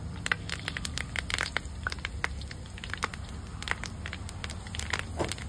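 Cumin, mustard seeds and curry leaves crackle and spit in hot oil, with sharp irregular pops close by over a steady low sizzle, no talking.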